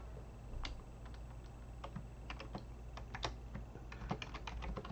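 Quick light taps on a computer keyboard as a short note is typed, close and quiet, with irregular clicks over a low steady room hum.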